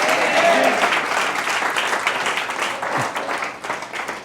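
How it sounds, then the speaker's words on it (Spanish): A church congregation applauds during a Spanish-language Christian sermon, a dense continuous clapping that stays fairly loud and gradually thins toward the end, with no words spoken. "Denle un aplauso al Señor en esta mañana"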